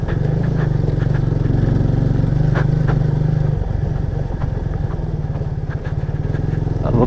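A motorbike engine runs close by with a steady, chugging idle-like rumble and occasional clatter while riding along a forest track, with no talk over it.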